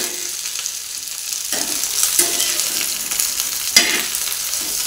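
Okra sizzling steadily as it fries in a small pan for bhendi masala fry, with sharp scraping stirs at intervals as the pieces are turned; close and fairly loud, no talk.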